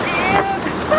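Wind gusting across the water at a paid carp fishery, a steady broadband rush that persists throughout while people talk.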